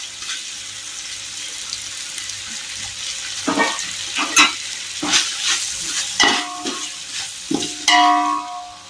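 Tomatoes and onions fry in a pan for chicken biryani. A steady sizzle runs underneath while a spoon stirs and scrapes in bursts.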